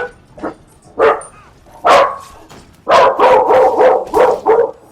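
Dogs barking in a game, a few separate yips early on, then a rapid, loud run of close barks and whimpering yelps filling the second half.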